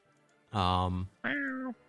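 Two drawn-out, tonal cat meows come one after the other, loud and close, with a short gap between them and no other sound.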